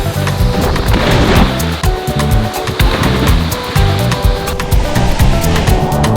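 Jungle waterfall in Belize sends up a steady rushing hiss of falling water, with heavy low rumbles and thumping knocks layered underneath throughout.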